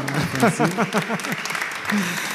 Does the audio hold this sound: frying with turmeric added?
no